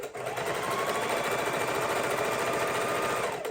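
A sewing machine runs a continuous straight stitch around the edge of a Christmas stocking, a steady close whir and rapid needle chatter lasting the whole time without pause.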